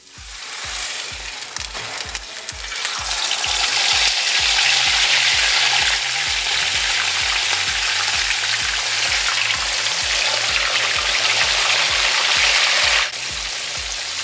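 Mojarra fish fry in hot oil with a loud, continuous crackling sizzle that swells after the first few seconds and stays dense, over a faint rhythmic low thumping in the background.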